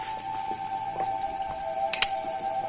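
A spoon stirs lauki kheer tinted with green food colour in a cooking pot, with soft scraping and a couple of sharp metallic clinks close by over a steady background hum.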